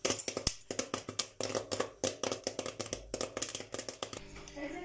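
Rapid, irregular pops of popcorn burst in quick succession from inside a covered pot, sharp and close, with a low hum underneath that rises near the end.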